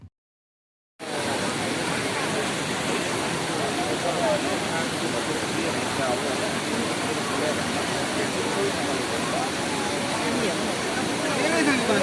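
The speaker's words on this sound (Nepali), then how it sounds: "असार 1 गते दिउँसा सुन्दर देखिएको पार्कमाथि अहिले खोला बगिरहेको छ" A flooded river pours across a park in Nepal, a steady, loud, broad roar of rushing water that starts abruptly after a second of silence and continues unbroken.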